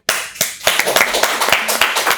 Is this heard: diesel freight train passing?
no